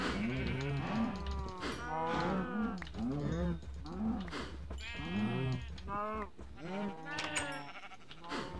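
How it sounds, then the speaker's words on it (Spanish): Cattle in the video game Minecraft moo repeatedly, several overlapping calls rising and falling close by, forming a near-continuous chorus of game cows with no talk over them. "Ya hay mucha vaca."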